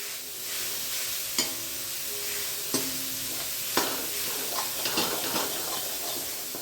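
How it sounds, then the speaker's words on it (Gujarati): Mawa (milk solids) stirred in an aluminium kadhai over low heat, a soft continuous scraping with a few sharper clicks of the spoon against the pan, close and steady, with no talking. "એને બરાબર ધીમા તાપે આપણે આવી રીતે મિક્સ કરી લઈએ બરાબર।"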